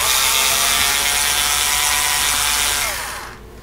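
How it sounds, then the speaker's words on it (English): Screws are driven out of an Asus X54C laptop with a power screwdriver, a steady loud whirring buzz that runs continuously for about three seconds before winding down and stopping, with no voices. "I'll just quickly remove these screws."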